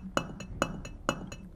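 Stone chipped at in the winter survival game Island Survival - Winter Story, four crisp clinking strikes evenly spaced with softer echoes between, close and clear with no talk.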